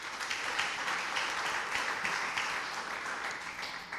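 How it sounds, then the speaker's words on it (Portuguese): A congregation applauding during a Portuguese-language church sermon, a soft, continuous patter of many hands heard from a distance. "Aplauda o Senhor."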